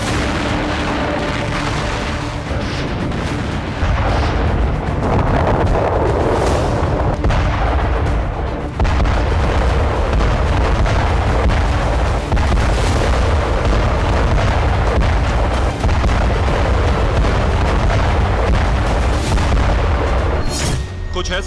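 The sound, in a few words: explosions, artillery blasts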